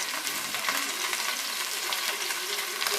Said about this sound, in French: Je fais dorer sur tous les côtés.